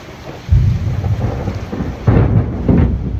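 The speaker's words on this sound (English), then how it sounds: "quite a storm out here." Heavy rain hisses steadily while deep rolls of thunder rumble in, swelling loudly twice over the downpour.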